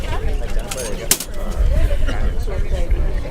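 Doves are released at a memorial celebration, with soft cooing and fluttering mixed among nearby voices and crowd chatter.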